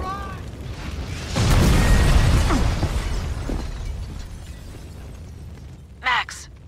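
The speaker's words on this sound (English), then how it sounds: "The building's blowing up." A building blows up in the video game Max Payne 2: a loud, rumbling blast swells and slowly fades into debris noise, then a brief sharp burst near the end, with no talking.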